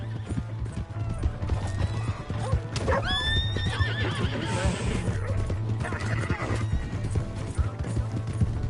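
Horse neighs and hooves clip-clop in a PS4 video game, with a whinny rising sharply near the middle over steady background game noise and shouting voices.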